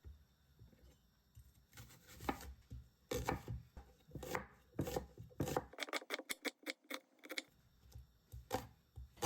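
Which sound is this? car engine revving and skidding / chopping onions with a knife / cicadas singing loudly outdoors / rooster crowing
chopping onions with a knife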